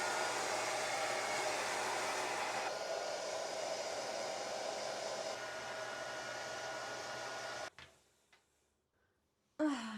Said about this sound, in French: On va sécher le toupette.